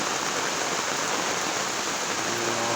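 Heavy rain pours steadily outside a house during the rainy season, a dense, loud, unbroken hiss of water that fills the whole moment with no voices.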